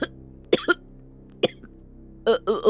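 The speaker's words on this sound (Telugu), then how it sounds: "నీకు సడన్ గా ఎందుకు ఇంత దగ్గు వస్తుంది" Four sharp coughs, close and loud: two quick ones early, a single one in the middle, then a rougher burst at the end, with quiet between them.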